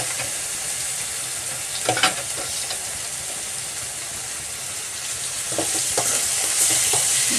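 Ginger-garlic paste and chopped tomato sizzle and hiss in a hot pan for mushroom gravy, with a continuous frying crackle and occasional stirring scrapes, growing slightly louder near the end.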